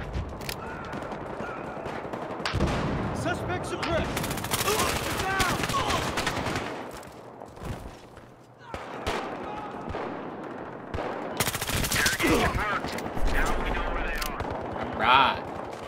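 Automatic and single gunshots from Battlefield Hardline's team deathmatch on the Derailed map crack in dense, loud bursts throughout, with a brief lull midway and voices talking over the firefight.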